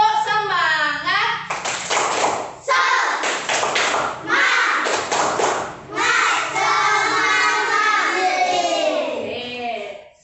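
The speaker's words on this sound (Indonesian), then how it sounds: "Tepuk semangat." Children in a classroom perform the Indonesian 'tepuk semangat' chant, with rhythmic group clapping and loud voices chanting along in close, energetic bursts.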